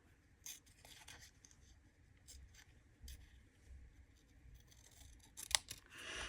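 Scissors snipping paper while cutting out ephemera from an old craft kit, soft intermittent cuts and rustles spaced irregularly, quiet and close with no talk.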